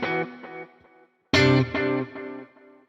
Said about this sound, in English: As you can hear at the moment, this is a mono delay.